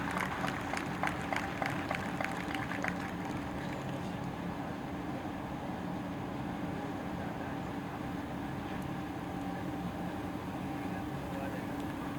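A crowd claps at the opening ceremony of the 36th All India Advocates Cricket Tournament, with a few seconds of scattered outdoor applause at the start that fades into a steady, noisy background hum.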